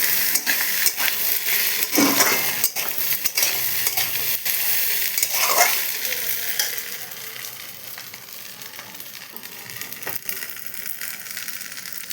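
Pasta sauce hits a hot pan with a steady close sizzle while a spoon stirs and scrapes, with occasional clinks against the metal, the frying easing slightly toward the end.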